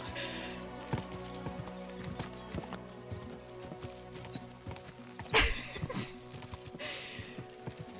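Horse hooves clip-clopping in the medieval game Kingdom Come Deliverance 2, a steady run of hoofbeats with a brief louder clatter midway and a faint whinny, under game music with little talk.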